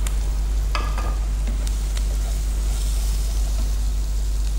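Chicken pieces frying in a pan for garlic chicken fry, a continuous dense sizzle with occasional scrape and stir knocks near the start, close and loud over a low steady hum, no talking.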